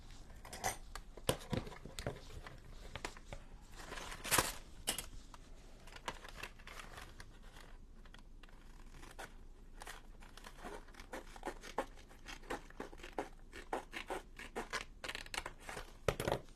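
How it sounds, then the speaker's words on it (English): Scissors cutting paper while making a junk journal, quiet close snips and crinkles scattered irregularly across a long stretch, with occasional louder cuts and paper rustling and no talk. "Scissors."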